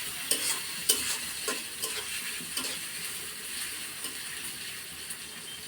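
Sliced onions fry in hot oil in a pan with a steady sizzle, broken by a few louder clatters of a spoon stirring them, heard close with no talking.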